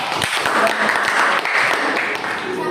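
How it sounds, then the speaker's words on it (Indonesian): Classroom applause for a student group after a water-filtering experiment, a steady run of many hands clapping, fairly loud and close, with children's voices underneath. "Oke, tepuk tangan untuk kelompok 2."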